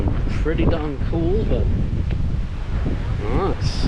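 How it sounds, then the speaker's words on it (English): Gusty wind buffets the microphone with a low, constant rumble at a lookout in Bowral, Australia, while people talk over it. "It is hella windy over here though"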